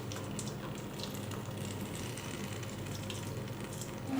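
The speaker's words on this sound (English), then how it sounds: "now we strain that water off of the ackee" Boiling water strained off cooked ackee for an ital Jamaican dish, a steady hissing, splashing pour that runs continuously and fairly faint, with no talking.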